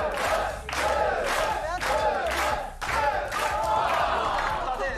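A loud crowd shouting and yelling together in steady bursts, voices overlapping with brief dips between swells.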